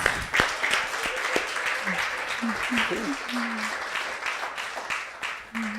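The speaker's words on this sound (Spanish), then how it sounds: "Den un Jesus aplauso." Applause from a church congregation continues throughout, with a few voices calling out and speaking over the clapping.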